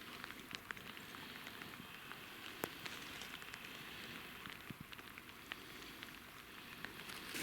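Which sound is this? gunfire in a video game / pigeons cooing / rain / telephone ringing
rain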